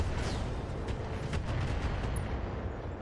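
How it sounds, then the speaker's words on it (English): Explosions in the BattleTech video game as a Gauss rifle hit sets off ammo blasts in a mech, a rumbling boom with crackling bursts under a steady low roar, no talking. "That Gauss rifle triggered 2 ammo explosions."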